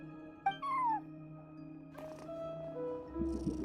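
A cat meows in the video game Genshin Impact while watching over a front desk: a clear rising-falling meow, then a softer second call, over a steady game music drone.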